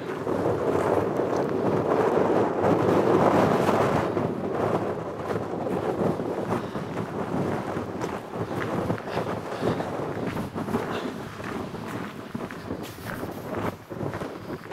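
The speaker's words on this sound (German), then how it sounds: "Deutlich hören könnt, hat der Wind ein wenig zugelegt." Strong wind on the Brocken mountain in the Harz, gusting hard into the microphone as a continuous loud rumbling roar. The wind is strongest at first, then eases slightly but stays steady throughout, with no voices.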